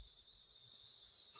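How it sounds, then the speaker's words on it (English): Cicadas shrill outside on a hot day in Beijing, China, a steady high buzzing drone that holds throughout at moderate distance. "Can you hear the cicadas outside?"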